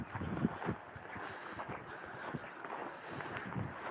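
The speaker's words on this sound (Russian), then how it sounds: "О, поднялся ветерок." Outdoor wind on a winter day in a snowy setting, a steady rushing buffet against the microphone with low rumbling gusts throughout, fairly loud and continuous with no voices.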